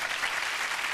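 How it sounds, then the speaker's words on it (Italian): Audience applause at a live comedy-cabaret show at Zelig in Milan during a magician's act: a brief, dense burst of steady clapping from a crowd. "un applauso a questo giovanotto"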